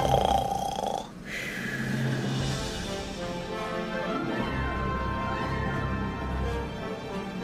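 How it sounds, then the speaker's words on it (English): Loud, rough snoring rumbles steadily near the listener, with raspy low tones and a brief sharper snort early on. "you were snoring very loud."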